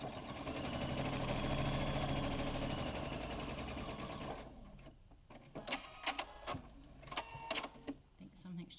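A sewing machine runs steadily for about four seconds, stitching a straight seam down fabric with right sides together, then stops; scattered clicks and handling noises follow.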